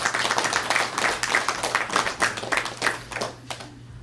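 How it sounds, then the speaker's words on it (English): Audience applause at a student government senate meeting, a steady patter of clapping hands that fades toward the end, with no talk over it. "Let's give another round of applause for them."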